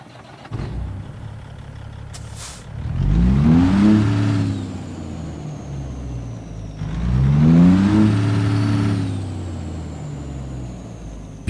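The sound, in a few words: Kenworth T600 truck with Cat C15 engine starting up, American Truck Simulator video game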